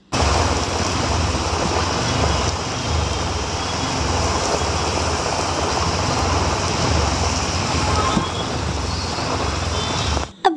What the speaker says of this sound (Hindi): ये मेरे ऑटो में बैठते ही काफ़ी तेज बारिश स्टार्ट हो जाती है।